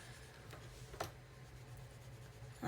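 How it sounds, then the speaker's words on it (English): Pencil scratching across paper while someone draws: faint, sparse strokes over a steady low room hum, with no talking. "I don't know if you can hear the sort of pencil scritches"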